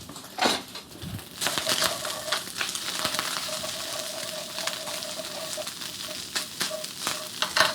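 Garlic and ginger frying in a pan with ground beef, an uneven close sizzle broken by scrapes and clatter from a spoon, moderately loud and continuous, with no speech.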